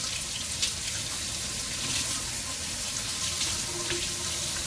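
Shrimp are rinsed under a running kitchen tap, a steady, close hiss and splash of water that runs continuously with no voices.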